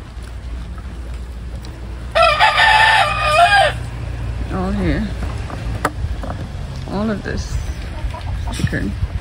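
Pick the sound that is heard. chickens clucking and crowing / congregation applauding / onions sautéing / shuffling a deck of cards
chickens clucking and crowing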